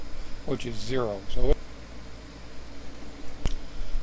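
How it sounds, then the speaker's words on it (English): An air conditioner runs steadily in the background, a low, even hiss that continues under a short stretch of speech and a few small clicks and handling noises. "That air conditioner will probably run through September."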